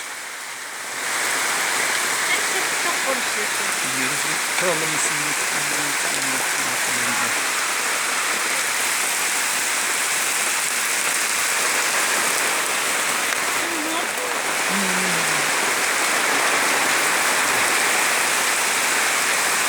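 A July downpour in Adana, Turkey keeps up a thick, even roar of falling rain, with a few faint murmurs of voices briefly underneath.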